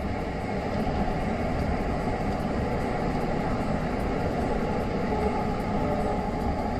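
A Delhi metro train rolls along in a steady, continuous rumble heard from inside the carriage by the window, with an even roar and no voices.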